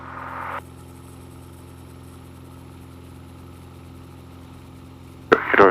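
A Piper Cherokee Six piston engine drones steadily at high power inside the cabin, a constant low hum holding for several seconds before a brief loud burst of noise at the end.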